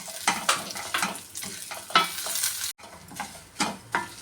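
Lentils and spices for amla coconut rasam fry and sizzle in a pan, close up, with regular stirring scrapes and a brief pause partway through, no voices.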